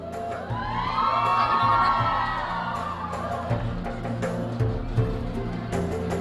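An audience at a university Bujang Gadis campus pageant grand final cheers and whoops for a finalist, a sustained crowd roar swelling loudly then settling into scattered shouts and claps.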